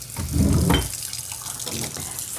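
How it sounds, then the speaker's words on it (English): Hot water running from a kitchen tap, a close steady gush that swells then settles into a softer flow, with a sharp knock at the end. "I'm going to turn around and turn the hot water on."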